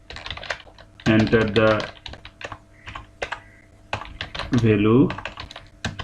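Rapid clicking of a computer keyboard while code is typed, close and crisp, with someone speaking over parts of the rattling keystrokes.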